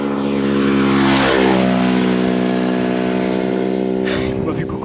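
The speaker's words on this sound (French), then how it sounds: "Je suis pris dans une sorte de course de moto." During a motorbike race on a road in Sicily, a loud engine roars past close by, its droning pitch sweeping down as it passes, with another engine following.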